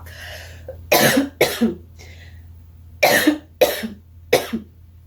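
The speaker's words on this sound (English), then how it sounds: "I'm going to be coughing from time to time" A person coughs in six sharp, close bursts, grouped in two sets of three separated by a brief pause, with near silence between them.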